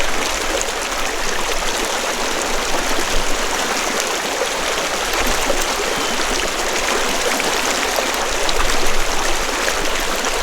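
Steady, broad rushing of a creek flowing beside a wilderness campsite, an even, continuous wash of water close by with no voices.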